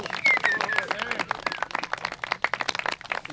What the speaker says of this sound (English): let's give him a rousing and robust round of applause